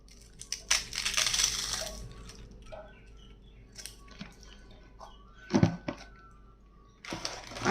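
Potato chips are crushed by hand over a sweet corn chaat, giving close, crisp crackling bursts, a long one at first and then shorter crunches and clatters, with no talking.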